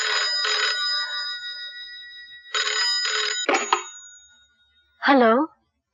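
A telephone rings loudly and close in a Hindi film scene, a few bursts of bright trilling bell, then a pause before a voice speaks.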